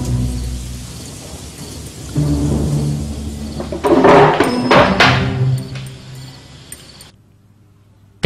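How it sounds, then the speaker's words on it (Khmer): Steady rain falls while thunder rolls in, swelling into a heavy rumble midway, then fading away to near quiet at the end. "មើលចុះនេះភ្លៀងកំពុងតែធ្លាក់"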